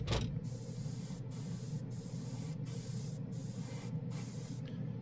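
Airbrush spraying Airbeast Super Chrome paint onto a butter knife, a continuous close, loud spray hiss with several brief regular pauses as the trigger is released, no talking.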